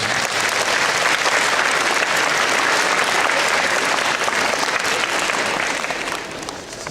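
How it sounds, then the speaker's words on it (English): Sustained, dense applause from a school assembly audience of students and staff, a steady loud wash of many hands that holds for several seconds before easing slightly at the end. "you all deserve a round of applause for your efforts in donating to Heavenly Hats."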